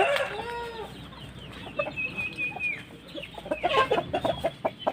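Several fighting roosters, kept ready to fight at a farm entrance, cluck and squawk in short bursts nearby, with a drawn-out call partway through, over a steady outdoor background.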